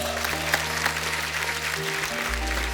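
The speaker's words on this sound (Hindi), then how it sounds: "उनके लिए जोरदार तालियां हो जाएं।" Studio audience at a comedy television show bursts into loud, sustained applause, a dense wash of many hands clapping that holds steady throughout, with a low musical tone underneath.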